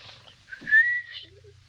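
A single whistled note that rises and is held for about half a second, heard from a film scene in which a German officer snores, clear and fairly close with no talk over it.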